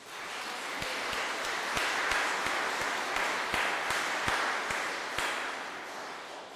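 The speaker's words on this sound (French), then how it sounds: "On peut l'applaudir." A church congregation applauds during a Sunday service, a soft, distant wash of clapping with a few sharper nearby claps standing out, swelling and then easing off.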